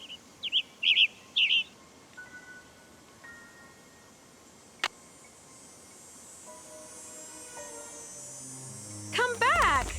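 Bird calls in the Nancy Drew game Ghost Dogs of Moon Lake: a few short bright chirps near the start, a soft hum between, then a burst of quick trilling tweets at the end, with no talk.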